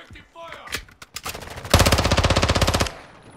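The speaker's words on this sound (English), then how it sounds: "Taking effective fire." Video game gunfire in Warzone 2: scattered shots, then a loud sustained burst of rapid automatic machine-gun fire, close and dominant, with brief speech around it.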